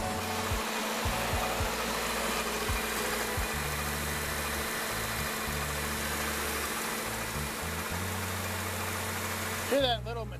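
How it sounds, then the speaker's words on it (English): A Ford Escape with a 2.3 Duratec engine idles steadily with a faint metallic rattle, a continuous low mechanical drone holding throughout, with a brief sharper burst near the end. "Hear that little metallic rattle?"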